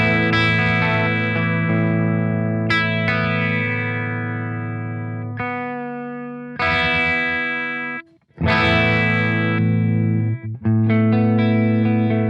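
Clean electric guitar played through a Revv G20 Lunchbox amp with no compression or reverb, ringing chords that sustain and decay, re-struck several times with brief gaps between, close and fairly loud with no voices.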